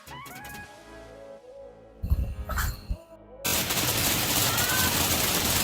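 Diwali flower pot fireworks (pushvanam) go off outdoors. Tonal whistles and a burst of sharp crackling bangs come first, then a loud, continuous spraying hiss that runs on steadily to the end.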